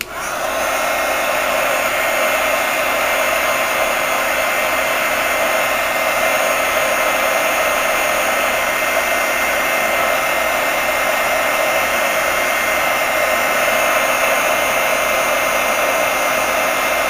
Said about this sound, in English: Again, sorry about the noise from my heat gun